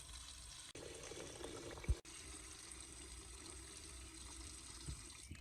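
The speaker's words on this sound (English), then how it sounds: "After rubbing evenly, I add water to the bowl again." Water pours and trickles steadily into a bowl of lemons for several seconds, fairly quiet, with a couple of brief clunks partway through.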